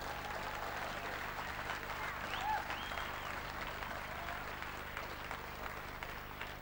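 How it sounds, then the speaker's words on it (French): Congregation applauding during a bishop's ordination in a church, a steady, fairly faint wash of clapping that holds for several seconds with a slight swell midway. "Nous acclamons très fort."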